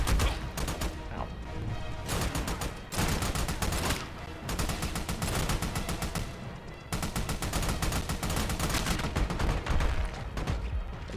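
Heavy gunfire in the co-op shooter Army of Two: dense, continuous bursts of automatic weapon fire and explosive cracks, loud and close, with only brief lulls.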